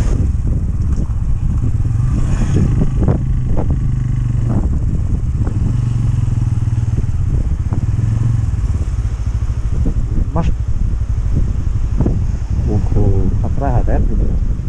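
Steady wind roar buffets the microphone while riding a motorcycle in monsoon weather on a trip toward Shey Phoksundo in Dolpa, Nepal, with engine rumble underneath and voices talking over it throughout.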